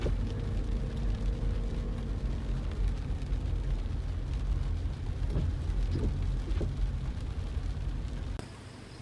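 Rain falls steadily over a residential subdivision in Tanza, near an outdoor full basketball court, a dense, even hiss that runs the whole time without voices.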